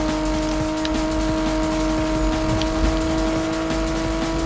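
A car racing at high speed in the video game Need for Speed, a steady loud engine drone with a sustained tonal whine that holds throughout without clear shifts.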